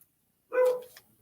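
A female dog lets out a single loud, close bark, a little drawn out, in an otherwise quiet room.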